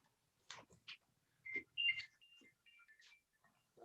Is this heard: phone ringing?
yes